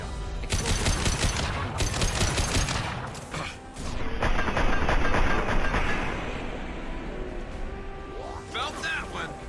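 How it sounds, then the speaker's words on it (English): Rapid gunfire with heavy blasts in Mass Effect 2 as unstable crates explode, dense and loud bursts filling most of the stretch with brief gaps between volleys. "A misplaced shot could cause a significant explosion."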